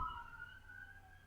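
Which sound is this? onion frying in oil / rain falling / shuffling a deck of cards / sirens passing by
sirens passing by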